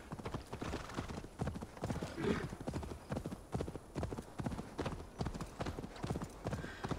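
A horse gallops in Assassin's Creed Valhalla with a steady, rapid clip-clop of hooves that is loud and continuous, and a brief whinny partway through, while a person talks over it at times.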